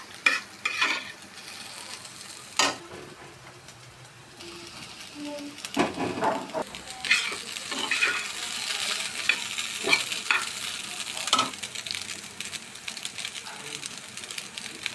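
Noodles stir-fry in a pan with egg, carrot, green chili, onion, spices and fried chicken, a continuous sizzle punctuated by scraping stirs and occasional sharp clatters of the utensil against the pan.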